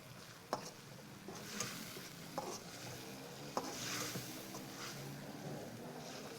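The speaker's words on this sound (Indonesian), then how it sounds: "kita masukkan cabai yang sudah di blender dengan bawang" Blended chili, shallot and garlic paste frying and sizzling in a pan for tom yum, with a soft continuous hiss and several sharp clicks of stirring, fairly faint.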